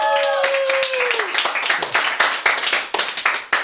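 An audience at a live comedy lecture claps in a scattered burst of hand claps, mixed with laughter and a voice near the start.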